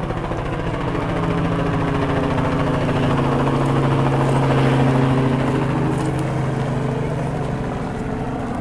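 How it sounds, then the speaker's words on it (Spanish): A steady, droning rotor and engine hum continues throughout at constant loudness, like a helicopter running nearby without pause. "Ah, sí, es el helicóptero de él entonces."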